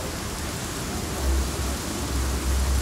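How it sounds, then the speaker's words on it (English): Steady rain hisses through a thunderstorm in the video game Just Cause 4, with low rumbling swells of thunder rolling underneath and no talk. "Storm's rolling."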